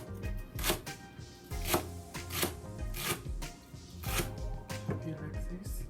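Knife chopping a washed leek into small pieces on a cutting board, steady repeated cuts in uneven bursts, close and moderately loud, with a voice talking over it at times.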